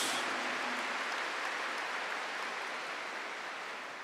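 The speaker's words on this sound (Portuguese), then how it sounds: "Aplauda essa palavra" A congregation applauds during a church service, with dense, steady clapping that slowly fades toward the end.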